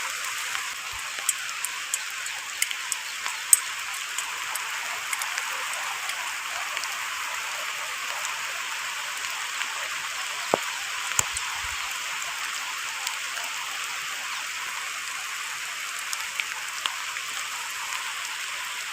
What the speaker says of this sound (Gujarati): તો વરસાદ તો થઈ ગયો ચાલુ.